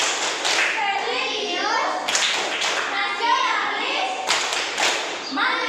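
A classroom of children performs the rhythmic tepuk PPK clapping routine, with sharp group claps in regular patterned bursts between loud chanted words.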